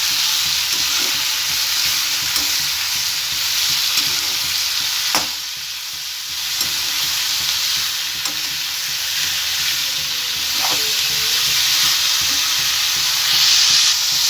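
Paneer gravy ingredients fry in hot oil, a continuous sizzle with occasional scrapes and knocks of the stirring spoon against the pan, steady and close throughout.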